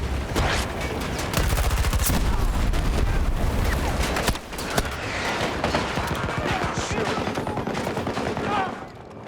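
Incoming gunfire in a first-person military video game, with loud, dense, continuous automatic bursts and heavy impacts filling the whole stretch, steady and close throughout.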